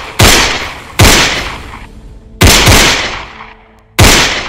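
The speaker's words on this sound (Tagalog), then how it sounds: "sunod-sunod na naputok ng baril sa loob ng kubo" Four sharp, loud gunshots inside a hut, spaced about a second apart, each with a ringing decay into near silence before the next, no talking.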